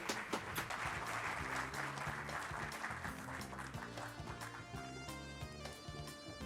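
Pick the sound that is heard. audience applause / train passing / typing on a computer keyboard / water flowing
audience applause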